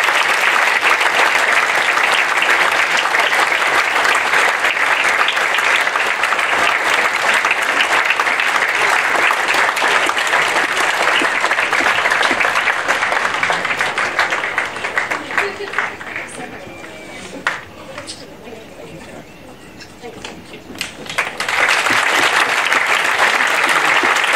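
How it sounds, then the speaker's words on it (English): An audience at an academy awards evening keeps up a long round of applause while someone comes forward to receive flowers; the clapping runs thick and steady, thins for a few seconds, then swells back to full strength. "keep the round of applause going"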